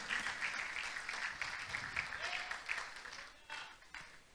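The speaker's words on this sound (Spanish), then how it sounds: "Denle un aplauso al Señor, pues." A church congregation claps together in praise, a fairly faint, even patter of many hands that thins out toward the end, with some voices mixed in.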